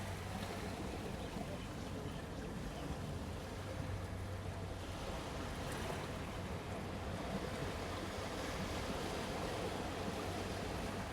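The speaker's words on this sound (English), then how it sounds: "Let's listen to the sounds of waves." Sea waves wash in a continuous broad roar, steady surf noise with some wind rumble and no distinct breaks.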